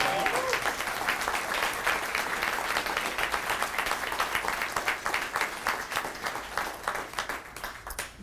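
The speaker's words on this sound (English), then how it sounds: "Please join me in giving all of these volunteers a round of applause." Sustained applause from a ceremony audience honoring volunteers, dense steady clapping that stays strong throughout and tapers slightly near the end.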